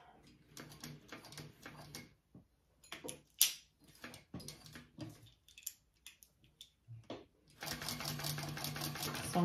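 A sewing machine topstitches around a crossbody bag at 1/8 inch, running in short stop-start bursts of rapid stitching, then a longer continuous run at the end.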